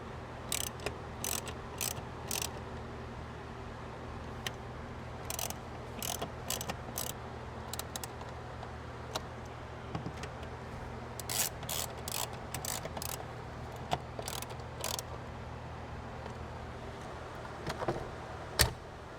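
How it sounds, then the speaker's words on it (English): A 7mm socket ratchet tightens fasteners on the HVAC air inlet housing of a Ford Raptor, sharp clicking bursts repeating in short runs close by over a low, steady background hum. "now just got to tighten these just a little bit using a 7mm socket"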